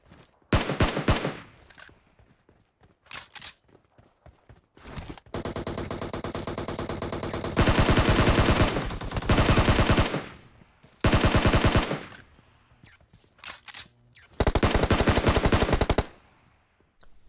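Automatic gunfire in a PUBG Mobile firefight: several loud bursts, some long sustained sprays and some shorter volleys, separated by brief quieter gaps, with no talking.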